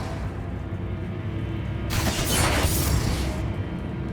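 A Confringo blasting spell going off in the Hogwarts Legacy game: a burst of bright crackling noise that flares up suddenly and rumbles for about a second and a half before fading into the ambient background.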